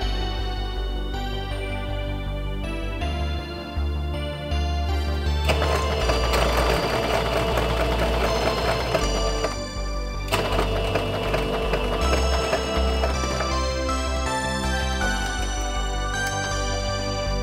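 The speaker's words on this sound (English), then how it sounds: "It was time to sew the lining around the neck area." A sewing machine stitching lining around the neck of a Barbie cosplay dress, with a close, fast mechanical whir in bursts of varying length separated by brief pauses.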